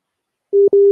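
A phone busy signal after a dropped call sounds as a steady mid-pitched tone, loud and close, cut by one brief gap into two pulses after a moment of silence.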